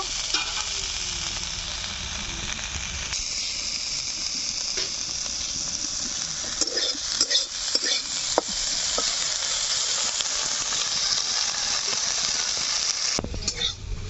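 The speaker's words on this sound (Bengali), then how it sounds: "মাছটাকে কড়া করে ভেজে নেব।" Fish fries crisply in hot oil in a wok, giving a steady, loud, hissing sizzle throughout, with scattered scrapes and clinks of stirring in the middle.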